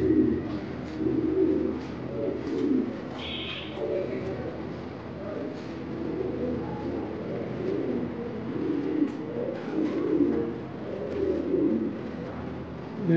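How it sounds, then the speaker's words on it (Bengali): Blue barless fancy pigeons coo in low, repeated throaty phrases through the whole stretch, close by, with faint chirps and a brief higher bird call over the steady cooing. "আপনারা যে একটু আগে যে ব্লুবার্ডলেস কবুতরটা দেখেছেন, এটা হচ্ছে সেই কবুতরের পেয়ার বাচ্চা"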